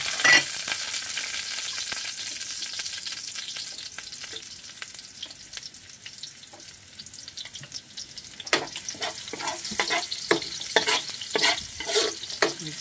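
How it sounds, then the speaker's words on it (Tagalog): Garlic and onion sautéing in a pan, a steady hiss of frying with scraping stir strokes that grow busier and more clattering toward the end. "Nagigisa ng bawang."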